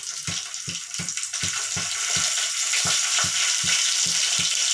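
Cumin and mustard seeds crackle and sizzle in hot oil in a well-heated pot, a steady loud frying hiss with repeated sharp pops spaced through the whole stretch, no voices.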